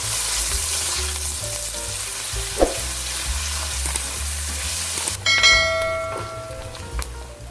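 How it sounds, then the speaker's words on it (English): Chopped onion frying in oil in a pot, giving a steady, loud sizzle throughout with a few brief stirring clinks and a sharper burst of crackling partway through. "In a pot, I add 5 tablespoons of oil and fry the chopped medium onion until golden brown"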